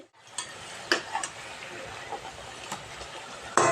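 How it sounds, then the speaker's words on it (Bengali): Soft sizzling of dough frying in oil, broken by a few clinks and scrapes of a utensil and a louder clatter at the end. "এইভাবে করে ঘুরিয়ে ঘুরিয়ে ভেজে নিতে হবে"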